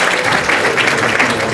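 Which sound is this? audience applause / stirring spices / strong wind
audience applause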